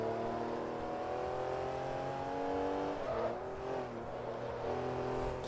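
A Porsche 911 GT3 race car engine in Forza Motorsport 3 wails steadily at high revs, dipping briefly as it shifts down and then pulling up again, with a faint tire squeal.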